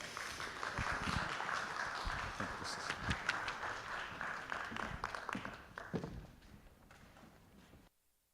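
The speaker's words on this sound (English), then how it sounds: "Give them a round of applause." Audience applause greeting panel speakers Erik Clemons, Jason Sobocinski and Alisha Crutchfield-McLean at an arts and ideas festival talk on business entrepreneurship; dense steady clapping that gradually thins and fades out near the end.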